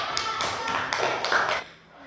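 Schoolchildren clapping in a classroom after a student presentation, a short burst of close, bright hand claps in uneven pulses that fades out after about a second and a half.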